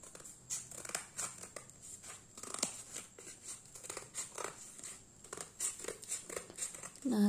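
Scissors snip through cardboard box material while making a bouquet box, a steady series of crisp cuts and crinkles, close and clear with no talking.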